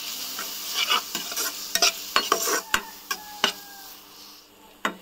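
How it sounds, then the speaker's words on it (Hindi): Spices and onions sizzle in a hot pan while a utensil stirs and scrapes them, giving sharp irregular clacks over the steady fry. "उसके बाद हम मसालों को अच्छे से फ्राई करेंगे कुछ टाइम"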